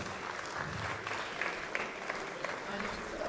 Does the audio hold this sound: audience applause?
yes